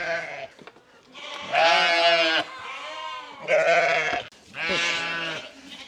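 Farm sheep bleat loudly while waiting to be fed, several long wavering baas in close succession, fairly near and with no talk.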